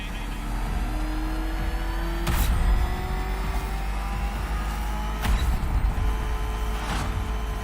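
Batmobile in the video game Batman: Arkham Knight, its engine droning and revving through a chase, with rising pitch sweeps and two louder bursts of acceleration over steady road rumble.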